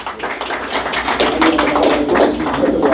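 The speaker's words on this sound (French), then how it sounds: "Sous vos applaudissements, s'il vous plaît." Audience applause at a Ministry of National Education ceremony honoring teachers, continuous dense clapping from a sizable crowd, swelling slightly partway through and holding steady to the end.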